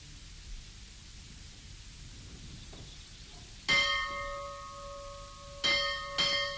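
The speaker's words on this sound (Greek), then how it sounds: "Η καμπάνα προσκαλεί στον Εσπερινό." Monastery church bell on Mount Athos calling to vespers at dusk: three loud ringing strikes that sustain and decay, after a stretch of quiet hiss.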